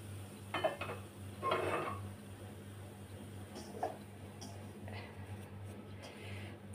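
A metal spoon stirs karapusa dough mixed with hot oil in a bowl, making a few soft scrapes and clinks in short bursts against a quiet background hum.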